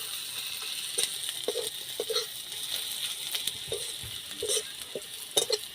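Sliced onion fries gently in the little oil left over from frying rohu fish, a soft, steady sizzle broken by repeated scraping and clicking of a spatula stirring the pan, fairly close, with no voices.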